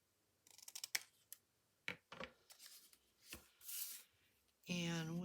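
Scissors snipping through scrap paper while trimming pieces for journal ephemera, a series of short close crisp cuts with brief pauses, ending in a louder sustained rasp.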